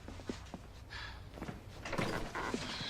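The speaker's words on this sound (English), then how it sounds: "Close the door." A door swings shut in an indoor scene from an action film, giving a few knocking clunks and a fuller thud of wood against the frame amid quiet room sounds, fairly close.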